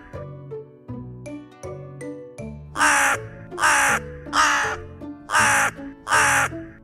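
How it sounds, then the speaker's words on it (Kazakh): A crow caws five times in a steady, evenly spaced series of harsh calls, each loud and close. The calls follow a short, light tinkling melody. "Қарға кар, кар дейді."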